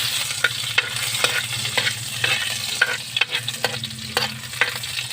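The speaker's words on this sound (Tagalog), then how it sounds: "sabay natin tong bawang at saka sibuyas" Garlic and onion sauté in hot cooking oil in a pan for a fish soup, a steady sizzle broken by repeated sharp scrapes of stirring, close and fairly loud with no talk.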